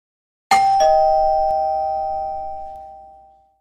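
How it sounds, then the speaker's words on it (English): A single electronic doorbell chime rings out, two quick tones that sustain and slowly fade away in an otherwise quiet room. "It's the doorbell."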